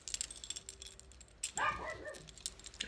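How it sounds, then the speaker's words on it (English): A pet dog gives a single short bark or yelp near the middle, brief and fairly close, against light rustling and clicking in a quiet room. "Excuse my dog."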